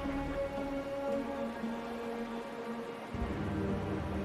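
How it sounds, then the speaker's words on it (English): Steady rain falls in the Wuthering Waves video game, a soft, even patter over a low sustained ambient tone, fairly quiet throughout and with no voices. "Something's wrong with this rain."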